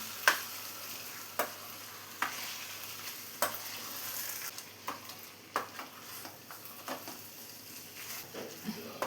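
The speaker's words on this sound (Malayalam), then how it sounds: "ഇതിലോട്ട് ഇനി നമ്മൾ മസാല പറ്റി വെച്ചിട്ടുള്ള ചിക്കനും കൂടെ ചേർത്ത് കൊടുക്കാം." Masala-coated chicken goes into a pan and is stirred, giving a soft sizzle with periodic spatula scrapes and clacks, close but fairly quiet, with no voices.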